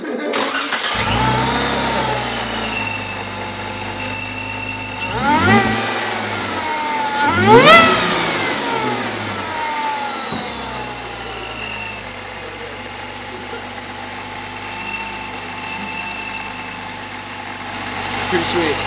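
A Chrysler 3.6 engine fitted with a Sprintex supercharger idles nearby, then is revved in a few sharp bursts that climb and fall before settling back to a steady idle.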